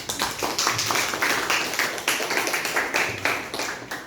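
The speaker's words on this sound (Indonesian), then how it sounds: "Oke, tepuk tangan dulu untuk temannya." Classroom clapping for a student who has just answered a math problem, a group of pupils clapping in a quick, fairly rhythmic beat, close and lively, with no talk over it.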